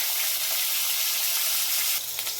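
Pieces of pointed gourd (potol) frying in hot oil give a soft, steady sizzle with a brief bubbling change near the end, quiet and close.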